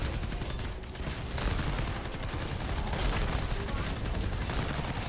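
Cannon fire from Blakebeard's weapon in the Fortnite video game: dense, continuous booming blasts and crackling impacts that run as loud, rapid, overlapping shots throughout.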